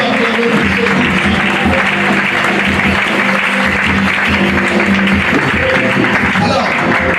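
An audience at an opening-night gathering applauds and cheers, with loud, continuous clapping filling the space throughout and voices mixed into the crowd noise.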